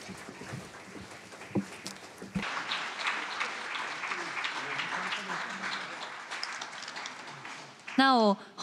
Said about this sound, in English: So please see them off with a big round of applause.